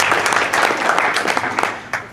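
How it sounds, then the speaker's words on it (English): Audience at a Republican candidate forum in Jackson County clapping together, a steady dense patter of hands that swells and fades over two seconds, with no talk over it. "you can clap, it's okay, come on"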